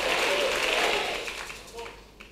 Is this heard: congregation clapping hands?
yes